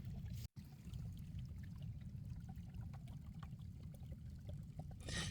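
Water rushes steadily through the riffles of a gold sluice box on the Southern Oregon coast, loaded with black sand. A continuous, close, full wash of flowing water drops out for a moment near the start.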